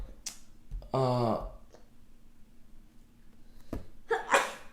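A single sharp, voiced sneeze close by in a quiet room, followed by faint breathing and a short burst of noise.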